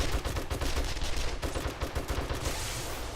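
Automatic turrets in 7 Days to Die firing rapid sustained bursts, dense close gunfire rattling continuously for a few seconds with no talk.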